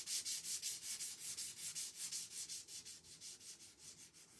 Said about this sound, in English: I think I want to sand it lightly to maybe mute the color a little bit.